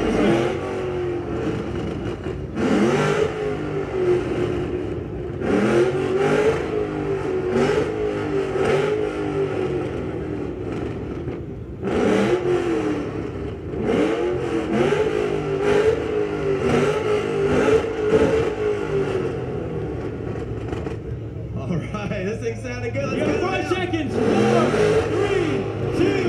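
V6 Ford Mustang engine revving at the American Muscle 2018 rev contest, with repeated loud revs climbing and falling in bursts while a crowd talks and cheers close by.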